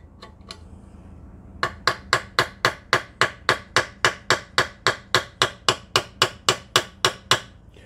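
A brass hammer strikes parts during an upper receiver build, about twenty sharp, evenly spaced metallic taps in a steady rhythm, close and loud, after a few quieter knocks.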